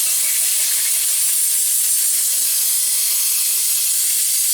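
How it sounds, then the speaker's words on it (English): Brake cleaner solvent sprays steadily out of a part during a Kubota BX2380 tractor service, a loud continuous hiss with no pauses and no voices. "go ahead and get it with some solvent or brake clean and just hose it out."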